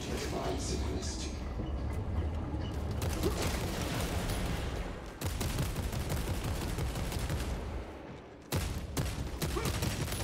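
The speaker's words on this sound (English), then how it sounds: "I swear the recoil on these weapons is worse on the harder difficulty as well." Weapons fire sustained and loud in the Space Marine 2 campaign on the hardest difficulty, dense rapid bursts with brief gaps near the middle and end, under a busy layer of battle noise.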